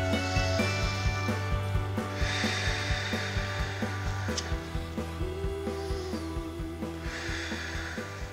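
A hair dryer blows over watercolour paint to dry it, a steady close whirring hum with repeated rhythmic clicking and scraping throughout.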